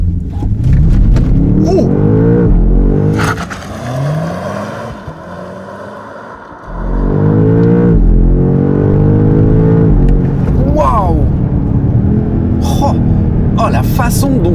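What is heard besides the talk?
BMW M5 G90 launch control acceleration in M2 sport mode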